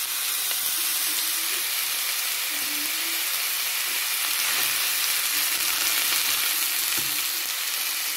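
Spaghetti sauce frying in a pan gives a loud, continuous hiss and sizzle close up, with faint scrapes of stirring underneath and no talking.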